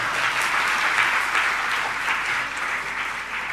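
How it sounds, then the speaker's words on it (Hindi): Loud, sustained applause from a large audience gathered for a Jain religious discourse, dense clapping filling the whole stretch without a break and no voices over it. "बजाओ जोरदार ताली।"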